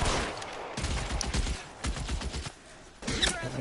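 Rapid bursts of gunfire in the game L.A. Noire, a dense fusillade of loud close shots in uneven volleys with short gaps, continuing almost throughout.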